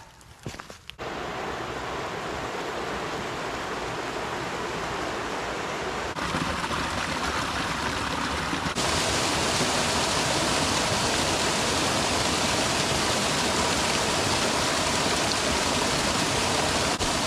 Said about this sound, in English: So this waterfall here should be just perfect for some natural clean water.